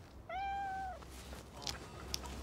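A cartoon cat stuck up a tree in a children's animated show gives one clear, drawn-out meow, fairly close and clean, followed by a few faint, soft clicks in a quiet outdoor setting.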